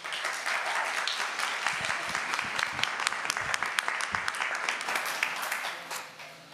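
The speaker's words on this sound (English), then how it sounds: "give a big round of applause" A crowd applauds steadily, dense clapping filling the room for several seconds before tapering off slightly at the end.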